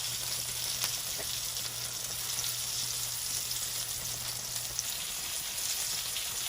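Constant bright sizzling of country fried steak frying in a hot pan on the stove, even and continuous, with a faint low hum underneath.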